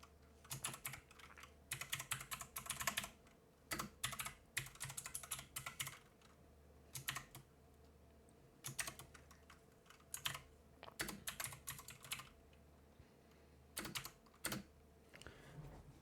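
Someone types on a computer keyboard in quiet, close bursts of rapid keystrokes separated by short pauses.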